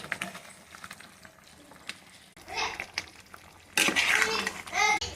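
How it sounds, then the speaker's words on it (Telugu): Curry in a pan being stirred with a utensil, with scraping, clinks against the metal and a light sizzle, close by, coming in bursts that grow louder toward the end, with voices talking now and then. "బాగా కలుపుకోవాలి."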